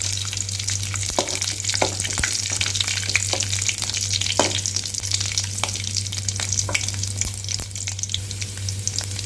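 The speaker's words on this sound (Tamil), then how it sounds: "பூண்டு வந்து நல்லா பொரியட்டும்" Five garlic cloves fry in oil with popping mustard seeds, giving a steady dense sizzle with scattered sharp crackles over a constant low hum, close and without talk.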